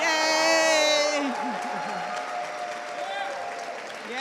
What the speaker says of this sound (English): Give yourselves a bigger round of applause.